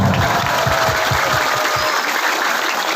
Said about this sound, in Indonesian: Tepuk tangan dulu dong saudara.